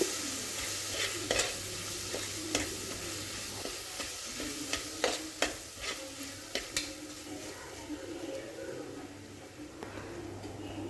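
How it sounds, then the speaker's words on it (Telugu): Spoon scraping and stirring through cumin, coriander and turmeric frying in a pan, with a steady sizzle and irregular close clinks and scrapes, tomato rice being cooked, no talking. "కొంచెం పసుపు వేసేసుకొని మొత్తం అంతా కలిపేసుకోవాలి జీలకర్ర ధనియాలు పసుపు"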